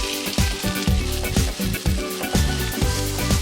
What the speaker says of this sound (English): I've got some onions and red peppers, which I'm going to just put into the pan